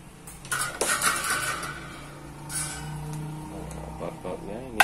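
A stiff, jammed electric fan is opened up by hand, its parts clinking and clattering in short, close bursts with a pause in the middle, while someone talks throughout.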